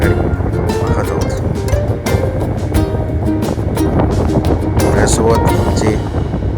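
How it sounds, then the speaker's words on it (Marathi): A small boat pushes across the open sea toward a large ship, with loud, close, continuous rushing of wind and water and engine drone, broken by brief gusty spikes. A voice speaks over it. "आमचे छोटंसं जहाज आहे, ते भल्या मोठ्या जहाजाकडे मार्गस्थ होताना आपल्याला दिसत आहे."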